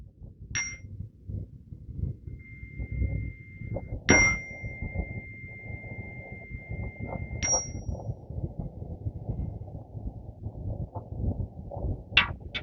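Three clear chime strikes, each ringing out with a sustained bright tone, spaced a few seconds apart over a low background rumble.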